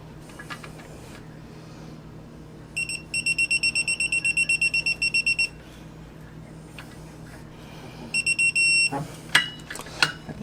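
An electronic torque wrench signals target torque while tightening a fastener to 52 foot-pounds during a clutch spring install on an X3. It gives two bursts of rapid, high beeps over a quiet workshop background, followed by a few clicks and knocks.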